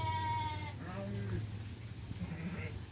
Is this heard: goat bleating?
yes